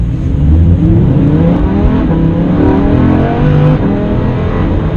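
A 2016 Lamborghini Huracan 580-2 accelerates hard, its engine roaring loud and close with a steady rising drone held for several seconds, with no talking.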